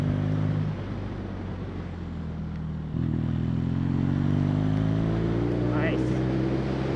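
A 2016 BMW R nineT motorcycle on a road with a tightening corner, engine droning steadily near the microphone, dropping briefly then rising in pitch as it accelerates, with wind rush throughout.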